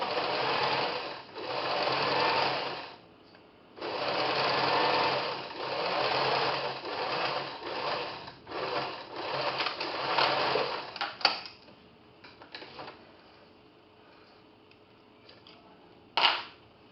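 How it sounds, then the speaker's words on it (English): A sewing machine stitches a French seam with a back stitch, running in loud steady whirring bursts broken by brief pauses, then quieter intermittent stitching and a final short burst. "we'll begin stitching. Back stitch, and all the way down."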